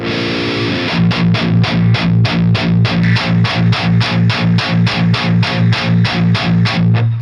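Heavily distorted, bright electric guitar through a Fortin Killer Kali preamp with both gain stages' bright switches on plays a fast, even chugging rhythm of repeated palm-muted chords, loud and close, with no talking.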